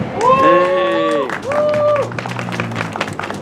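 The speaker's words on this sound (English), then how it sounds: "can I get another round of applause for Monique?" Crowd applause breaks out at a vigil marking the one-year anniversary of the Capitol insurrection, opening with a loud whooping cheer before scattered claps continue steadily and slightly quieter.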